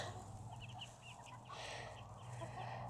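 Backyard coop chickens, including silkies and chicks, cluck in short soft bursts against a low steady hum, fairly close and fairly quiet, with no talking.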